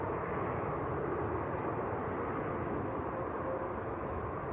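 A Virgin airliner arriving from Atlanta at Manchester Airport, heard as a steady, loud, broad engine roar that holds evenly throughout with no talking.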